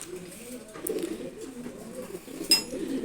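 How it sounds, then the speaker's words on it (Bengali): Male pigeons coo in low, rolling calls at a close distance, with a short sharp noise partway through and a faint background hiss. "আজকে কবুতর নিয়ে কিছু কথা বলবো আপনাদের সাথে।"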